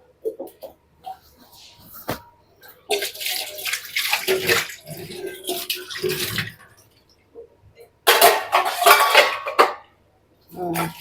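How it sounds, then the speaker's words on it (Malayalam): Cooking pots and dishes being washed under a running kitchen tap, with bursts of gushing water, clanks of metal and cutlery, and short pauses between rinses. "ഇനി ഈ പാത്രങ്ങളൊക്കെ ഒന്ന് കഴുകി വെക്കുക"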